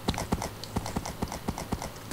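Steady clip-clop of video game horse hooves walking at an even, regular pace, close and clear, with no one speaking.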